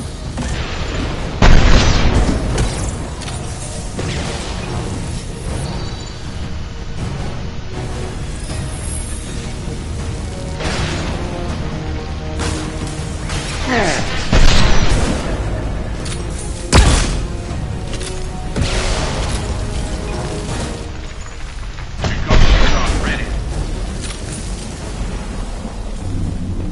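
Rifle fire in the video game Mass Effect 2 crashes out as a handful of loud, booming shots scattered across a steady rumbling backdrop of combat noise and music.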